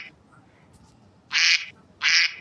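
A duck gives two loud, nasal quacks about half a second apart, close by, after a quiet stretch of faint background hiss.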